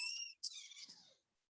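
A high, squeaky cat meow, two short cries with a brief gap, fairly quiet and close, then silence.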